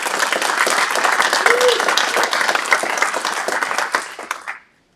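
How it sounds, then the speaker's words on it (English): An audience at a climate hackathon kickoff breaks into a loud, full round of applause, many hands clapping steadily before it fades and stops abruptly near the end. "So big round of applause"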